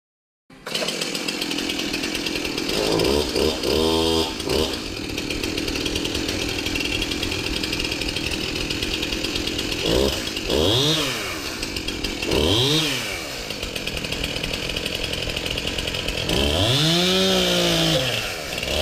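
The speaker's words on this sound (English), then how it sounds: "take a chainsaw and just cut it out" A chainsaw runs continuously, its engine surging and dropping in repeated revving sweeps as it cuts through a distressed wood beam.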